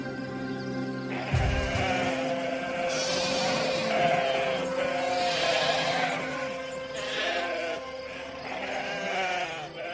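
Sheep bleat repeatedly in wavering, nasal calls over steady farmyard background noise, several animals overlapping at moderate distance.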